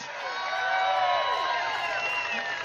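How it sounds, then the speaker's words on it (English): A crowd cheers and whoops over scattered clapping as two young boys are introduced to an audience, a loud, steady roar sustained throughout. "Give him a round of applause."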